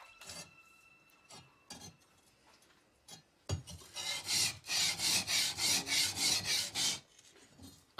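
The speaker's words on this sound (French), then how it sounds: "Un premier polissage permet de faire apparaître le hamon, la ligne de trempage de la lame" A steel katana blade is polished by hand, rhythmic rasping strokes sweeping back and forth at a steady pace after a few scattered scrapes and taps, close and fairly loud with no voices.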